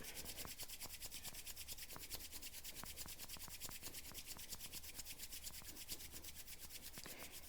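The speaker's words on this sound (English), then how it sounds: "Again, rub the hands. Generate heat." Two hands rub briskly together to build warmth during a yoga and meditation session, giving a quick, steady back-and-forth swishing friction that is close and soft and continues evenly throughout.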